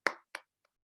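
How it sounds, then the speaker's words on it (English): Two sharp, loud hand claps ring out close by, spaced about a third of a second apart, to open a virtual club meeting, followed by near silence. "I'm officially opening the meeting with a loud applause."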